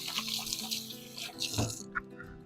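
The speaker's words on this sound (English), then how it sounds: "I'm going to rinse my hands real fast" Tap running as hands are rinsed at a kitchen sink, a short close splashing water rush that stops abruptly, under soft background tones.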